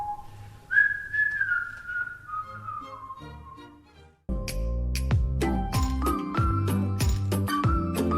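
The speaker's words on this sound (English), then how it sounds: "They heard him whistling happily in the hallway" A man whistles a wandering, cheerful tune alone, then a bright plinking music track cuts in beneath further whistled notes.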